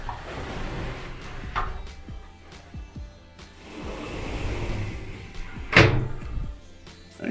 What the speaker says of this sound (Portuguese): Deixa eu fechar a porta aqui